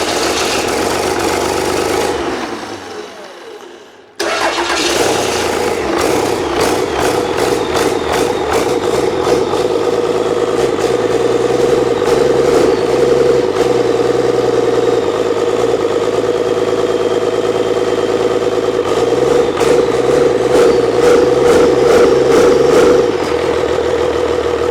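A 12V Cummins diesel idles roughly after its first start in years with the idle not set right. A brief dip and restart early on, then a loud, close, steady rumbling idle with a pulsing rhythm, no talking.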